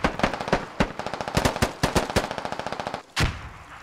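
Rapid automatic gunfire in the tactical shooter game Squad: a long burst of sharp, evenly spaced shots with a few louder single cracks, ending in a brief pause and one final heavy report, loud and close with no talk.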